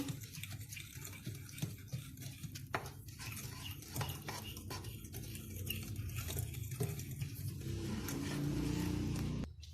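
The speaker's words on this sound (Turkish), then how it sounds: "Şu an karıştırıyorum gördüğünüz gibi." Brownie cookie dough with cocoa being mixed in a bowl: a soft, continuous scraping and clinking of a spoon at low level, close and steady, with no talk.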